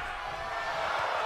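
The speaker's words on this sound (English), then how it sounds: "The sound of this crowd is deafening" A wrestling arena crowd at a tournament pay-per-view cheers in a steady, dense roar of noise that swells slightly over a brief moment.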